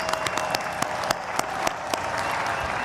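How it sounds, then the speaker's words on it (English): Audience applause after a large dance fusion performance at a world culture festival, a broad continuous wash of clapping from a big crowd with distinct louder claps popping out and a faint steady tone underneath. "Let's give another round of applause."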